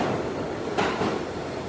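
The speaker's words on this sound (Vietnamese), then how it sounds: "Ngoài đó mà bước cái tàu điện ngầm New York nó như thế này nè cả nhà." A New York subway train rumbles through an old underground station with a steady, loud roar of wheels and carriages, a brief rattling surge midway and no voices.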